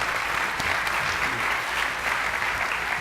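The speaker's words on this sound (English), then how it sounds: "You should applaud." Sustained applause from an audience at an Ohio State University agriculture celebration, a dense, steady wash of clapping at even loudness throughout with no other sounds standing out.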